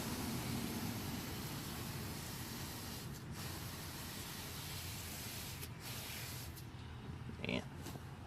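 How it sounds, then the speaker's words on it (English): Carpet and mat cleaner sprayed inside an SN95 Mustang GT, a faint, continuous hissing spray close by with a few short breaks. "I'm gonna go ahead and spray this carpet and mat stuff down"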